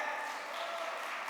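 Brief, even clapping from a crowd audience, a dense continuous patter at moderate distance with no clear voices over it.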